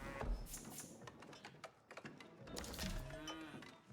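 Cattle low and moo at a cattle ranch in a strategy video game, faint and blended with dense game clicks and mechanical effects.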